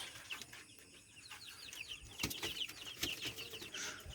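Soft chirping and clucking from fifteen-day-old chicks on a small farm, repeated short calls over a busy, rustling farmyard background.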